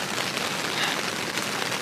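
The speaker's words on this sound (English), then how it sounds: "It's raining way too much" Heavy rain pattering steadily on a nearby surface at a sandy campsite, a dense continuous hiss of drops with no voices.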